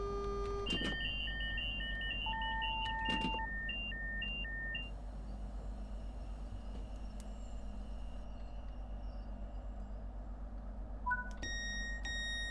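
Warning beeps sound in a Eurostar cab in Train Sim World 3: repeated short electronic tones in quick pulsing bursts over a steady low engine hum, then fading out, with a few higher chimes near the end.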